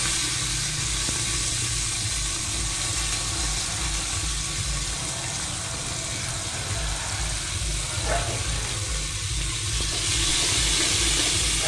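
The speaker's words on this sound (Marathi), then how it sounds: "जो पावटा घेतला होता तो धुवून आपल्याला तेलात चांगला परतून घ्यायचा आहे।" Washed hyacinth beans (pavta) frying in hot oil with crushed garlic and ginger, a steady, fairly loud sizzle that runs throughout with a low background hum.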